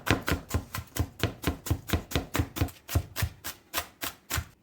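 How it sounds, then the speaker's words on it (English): A knife chops half a yellow onion on a cutting board in a steady rhythm of about twenty crisp, close knocks, evenly spaced with a brief hitch near the middle, and no talking. "I'm going to cut up half of a yellow onion."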